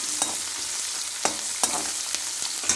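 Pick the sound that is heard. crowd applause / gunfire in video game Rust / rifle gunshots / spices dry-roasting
spices dry-roasting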